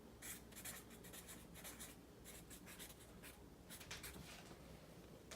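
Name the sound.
writing a prediction on paper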